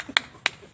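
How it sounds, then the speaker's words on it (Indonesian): Three sharp, close hand claps ring out in a quick, even rhythm, spaced about a third of a second apart, in the pattern of an Indonesian scout clap (tepuk pramuka). "tepuk pramuka ngene to"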